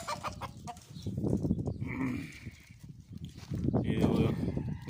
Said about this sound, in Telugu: కోళ్ళు.